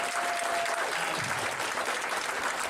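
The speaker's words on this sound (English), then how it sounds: "Give him a big round of applause." Loud, sustained audience applause for comedian Tommy Drake at a Las Vegas telethon, a thick continuous roar of clapping from a large crowd that fills the whole moment without pause.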